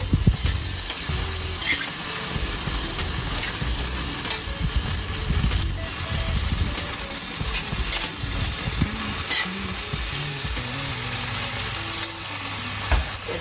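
Sticky chicken sizzles steadily in a hot frying pan, a continuous close crackle broken by occasional stirring scrapes and clinks.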